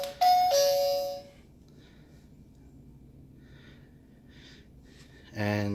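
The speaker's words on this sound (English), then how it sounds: "I have a cheap V-Star doorbell camera here. You can press the button," A cheap V-Star doorbell camera chimes when its button is pressed: a loud, clear two-tone ding-dong that rings out and fades, followed by quiet room hiss and a brief louder burst of sound at the end.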